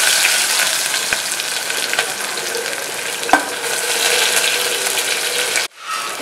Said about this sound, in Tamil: இப்போ வெங்காயத்தை ஆட் பண்ணிக்கலாம்.